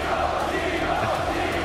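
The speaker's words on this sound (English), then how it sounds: "Crowd giving him some love." An esports arena crowd at the 2015 Mid-Season Invitational cheers in a dense, steady roar that holds at full loudness for the whole moment.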